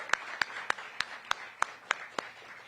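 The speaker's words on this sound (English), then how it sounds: "So let's give yourselves a round of applause." Sparse audience applause at a mayoral event launching DMV Black Restaurant Week: about nine crisp, evenly spaced claps, quiet and roomy, with no voices over them.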